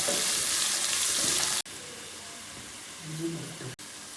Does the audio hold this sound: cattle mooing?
no